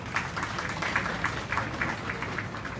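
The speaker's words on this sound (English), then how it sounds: "Can I please have a big round of applause for everyone?" An audience at a multicultural gala in Sydney applauds steadily, a dense wash of many hands clapping for a few seconds without a break.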